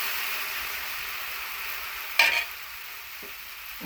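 Dosa batter sizzles on a hot pan in a steady, close hiss, with a sharp burst of crackling partway through as more batter meets the metal, then a quieter sizzle.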